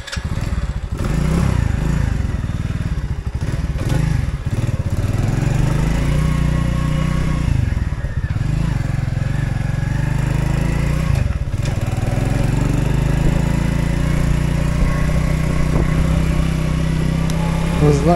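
Orion moped engine running steadily while riding, a loud close buzzing drone with pitch rising and falling as the throttle changes, continuous throughout with wind rumble.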